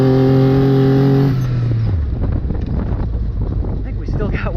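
An engine-swapped Mitsubishi Mirage off-road, running rich with too much fuel, holds a loud steady engine drone for about a second before the tone sags into a rough rumble buffeted by close wind noise.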